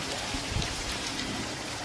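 Steady rain pours down outdoors at night, a dense, even hiss of drops on surfaces that stays constant and fairly loud throughout, with no voices.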